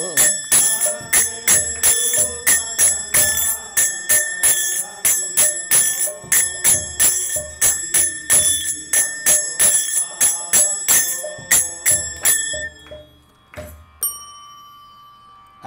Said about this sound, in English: I got to make sure I do the bell